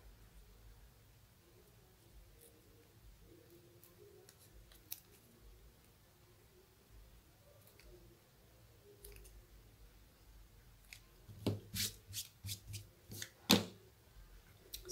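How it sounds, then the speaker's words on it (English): Scissors snip through fabric while making a clutch, a quiet stretch of faint handling giving way to a few sharp, close cutting clicks near the end. "Take a scissors, cut this off."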